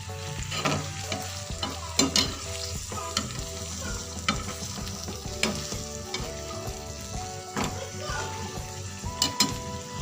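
Minced meat for martabak fries in oil while a spatula stirs and scrapes the pan, producing a continuous sizzle broken by sharp clacks, with music playing underneath.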